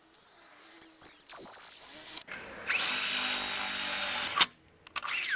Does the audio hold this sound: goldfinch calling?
no